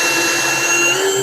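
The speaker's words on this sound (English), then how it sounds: "to drill a hole, you just basically push down and you just drill" A steady, high-pitched motor whine from a Ridgid R9208 cordless drill driver running continuously through wood, loud and close, with no voices.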